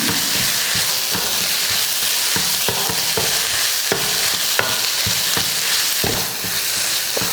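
Ground soya keema sizzles loudly in hot oil with masala in a pan, with a continuous frying hiss broken by regular scraping stirs of a spoon.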